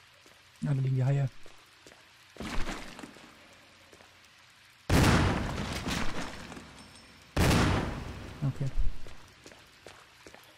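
Gunshots fired at sharks in the video game Resident Evil on Nintendo Switch, three loud bursts spaced a couple of seconds apart, each with a short rumbling decay, after a brief spoken word.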